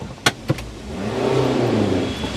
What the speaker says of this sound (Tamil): பிரேக்லேருந்து கால் எடுத்து ஆக்சிலேட்டர் கொடுக்குறேன்